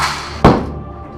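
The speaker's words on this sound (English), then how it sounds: "Grenade incoming." A grenade goes off in a military shooter game as a single short, muffled boom that hits suddenly and fades quickly, heard fairly close and loud.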